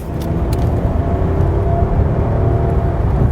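Rolls-Royce Ghost V12 heard from inside the cabin while accelerating, a smooth low steady engine rumble mixed with road noise, fairly loud and with no talk.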